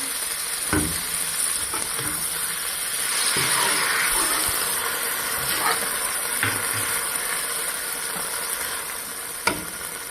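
Soy sauce and chili garlic sauce stirred together in a hot pan give a steady, moderately loud sizzling hiss, broken by a few soft clinks of the spoon against the pan.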